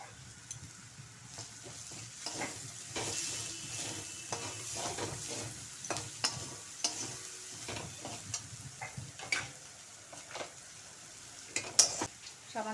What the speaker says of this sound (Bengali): আদা বাটাটা দিয়ে দিলাম।